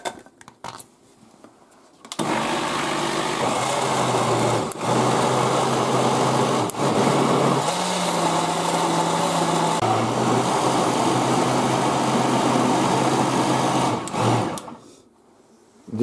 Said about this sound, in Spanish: Y lo batimos todo